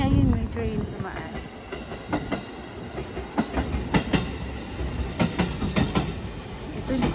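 Old Japanese steam locomotive D5272 on its rails, a continuous loud rumble with rhythmic clanks and clicks of rolling wheels close by, with people talking intermittently over it.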